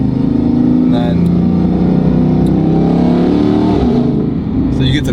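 Dodge Hellcat with a Valvetronic Designs valved sport exhaust, valves closed, gives a loud sustained supercharged engine drone with a whining edge, close up and continuous throughout.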